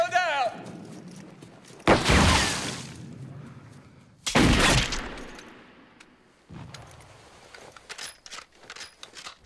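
Bursts of war-film gunfire, two loud dense volleys of shots that ring out and decay, then scattered lighter crackling shots toward the end, with a brief voice at the start.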